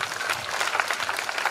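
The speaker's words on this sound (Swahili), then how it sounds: "Wapi makofi?" An audience at a family conference claps together in a dense, steady round of applause that fills the whole moment.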